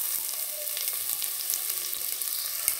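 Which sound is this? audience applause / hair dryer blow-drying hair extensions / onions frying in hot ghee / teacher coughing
onions frying in hot ghee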